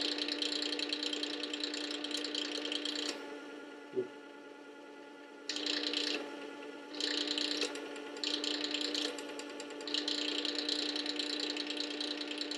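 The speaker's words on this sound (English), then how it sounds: "It's a different tone as it's polishing, it's not grinding it anymore." A powered knife sharpener's finer-grit disc polishes a blade, making a steady, close mechanical whir with a faint rattle. The tone shifts a few times as the blade is repositioned.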